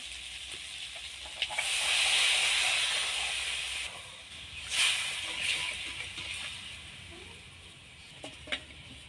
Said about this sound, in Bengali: ঝোলটা ফুটে উঠেছে